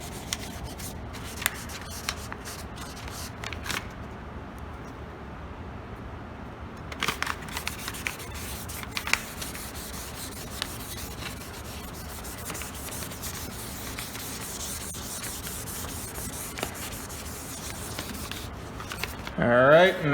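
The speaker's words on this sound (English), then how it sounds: "once we've done our 1000 grit sanding, again, spray it down" A plastic headlight lens on a car is wet sanded with 1000 grit sandpaper and sprayed down, giving a soft, continuous rubbing and scrubbing at moderate distance, with a short spray near the end.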